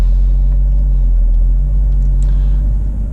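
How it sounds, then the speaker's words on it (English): A car rolls slowly past a parked car ahead of a parallel parking space, its engine a steady low rumble close by throughout, with no talk. "I'm going to drive just slightly past it"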